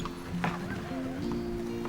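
A horse, heard near a landmark building in Tullylish, Northern Ireland, makes brief clip-clop and snorting sounds under steady background noise while a person talks.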